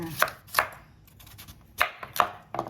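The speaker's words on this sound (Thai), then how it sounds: "หั่น" A knife chopping peeled, ripe dark-yellow pumpkin into small pieces on a board, five or six crisp, close strikes in an uneven rhythm with short pauses between, alone without talk.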